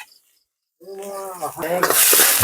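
Chopped onion and capsicum pieces dropped into hot refined oil: after a moment of silence a brief tonal sound gives way to a hissing sizzle that swells loud and bright, close up.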